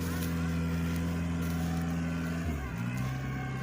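A small walking tractor engine stuck in mud drones steadily and loud, close by, then labors and drops in pitch as it strains, before picking back up.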